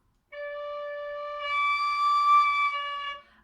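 A homemade penny whistle plays one clear, sustained tone that steps up to a higher note and then drops back, loud and close, before cutting off abruptly.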